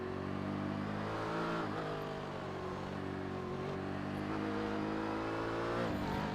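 Race cars roar around the Sebring circuit, engines revving loud and continuous with pitch rising and falling as the cars accelerate and shift, with no talking.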